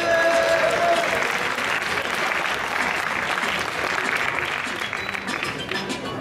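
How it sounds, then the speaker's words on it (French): An audience at a costume tournament event applauds a contestant, a loud burst of clapping that starts strong and tapers slightly over several seconds, with a few faint voices mixed in. "Alors, on peut applaudir Guillaume"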